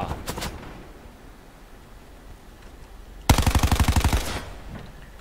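Gunfire in Call of Duty Black Ops 4 Blackout: a short early burst, then a loud, rapid automatic volley of about a dozen shots near the end, with quieter game ambience between.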